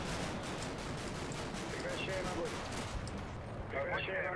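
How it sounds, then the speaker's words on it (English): Small arms gunfire hitting a building in the Combat Mission: Black Sea war game, a dense crackling burst of rapid distant shots and booms over continuous battle noise, with a voice talking over it. "So I think this building's still under small arms fire."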